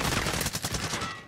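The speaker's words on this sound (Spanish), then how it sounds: "Son disparos, son disparos." Gunfire in the online shooter Call of Duty Warzone: a loud, rapid burst of automatic shots crackling in quick succession, close and dominant over the game's background noise.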